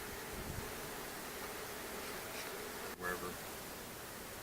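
Honey bees buzz faintly and steadily around a hive that is being robbed out, with a brief soft click partway through and no talking.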